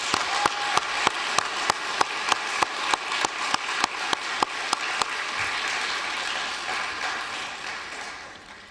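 At a university master's graduation ceremony, a crowd gives the graduates a big round of applause, with sharp rhythmic group claps at first that dissolve into a dense, steady wash of clapping before fading.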